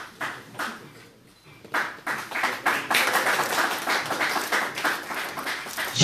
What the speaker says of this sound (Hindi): जोरदार तालियों से अभिनंदन करें अपने साथियों का